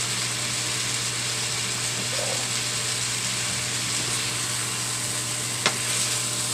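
Pork sinigang being stirred in a pot, a steady soft sizzling wash with faint scraping, no talk.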